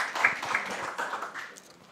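A burst of applause from a conference audience, strongest at the start and gradually thinning out over two seconds.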